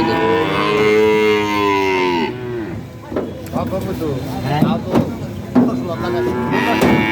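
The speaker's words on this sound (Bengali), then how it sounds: "সুন্দর সুন্দর পছন্দের গরুগুলা আপনার আমাদের সকলের পছন্দের গরু বিদেশি গরু" A loud, long moo opens, followed by shorter lowing calls from foreign-breed cattle and calves at a farm, with scattered voices nearby.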